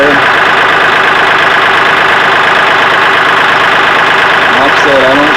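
A Kioti CK3510 tractor, being repaired for a water-in-fuel warning light, idles with a loud, steady diesel clatter close by, and a brief voice comes in near the end.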